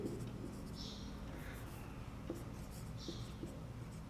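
Pen or pencil scratching across paper in faint, short strokes, close but quiet, with no talking.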